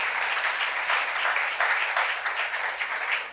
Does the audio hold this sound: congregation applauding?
yes